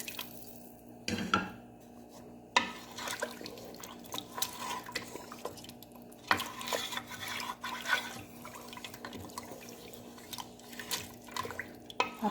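Water poured from glasses into a pot of browned mutton for nihari: splashing and trickling liquid in separate bursts, with light clinks of the pot, fairly quiet in a kitchen.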